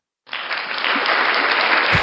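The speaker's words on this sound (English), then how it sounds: "Can I give this man an applause, please?" Short burst of applause on a sports podcast, starting abruptly after a moment of silence and holding steady to the end.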